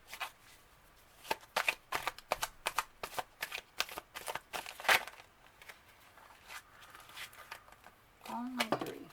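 Tarot cards are shuffled close up in quick, crisp riffling bursts and flicks, with a voice briefly speaking near the end.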